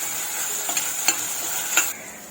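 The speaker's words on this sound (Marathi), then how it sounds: "आपण हे मसाले चांगले परतून घ्यायचे आहेत" Spices sautéing in oil while being stirred for a dry snake gourd bhaji, a close continuous hiss with a few spatula scrapes, the sizzle dropping off near the end.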